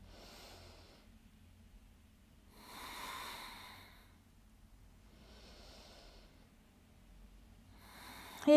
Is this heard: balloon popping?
no